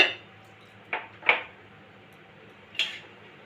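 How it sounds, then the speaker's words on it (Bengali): A lid comes off a pot of cooking jackfruit curry with a few short metallic clanks and clinks, close and spaced out over a quiet background. "এবার আমি ঢাকাটা খুলে নেব"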